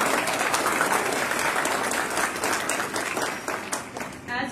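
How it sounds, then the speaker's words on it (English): A school awards audience applauds students in a steady, dense wash of clapping that tapers slightly near the end, with faint voices mixed in. "So you all deserve a round of applause"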